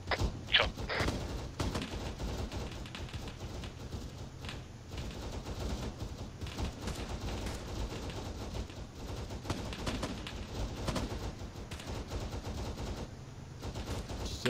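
A stationary vehicle's mounted gun fires in a military shooter game, letting off dense, continuous bursts of shots over a steady rumble for the whole stretch, with no talking.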